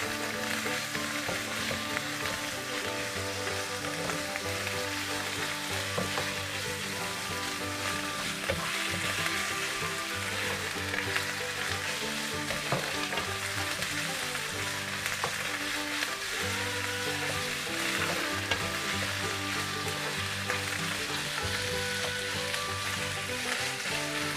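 Pork stir-frying with Thai curry paste in a pan, a dense, continuous sizzle and crackle of hot oil that stays loud and steady throughout, with faint stirring beneath.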